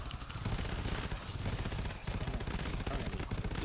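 An automatic turret in the co-op shooter GTFO fires continuously, a dense, loud stream of rapid shots that fills the whole stretch with barely a pause.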